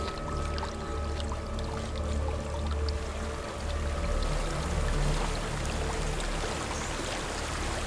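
A waterfall in the video game Hellblade: Senua's Sacrifice, a continuous full rush of pouring water with a faint tonal hum, steady and fairly close.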